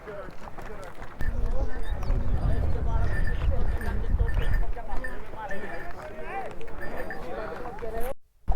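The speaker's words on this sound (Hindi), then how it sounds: "घोड़े को साइड में रखो।" Horse hooves clip-clopping on a steep mountain trail toward Sheshnag on the Amarnath Yatra route, a steady walking rhythm close by with someone talking over it throughout.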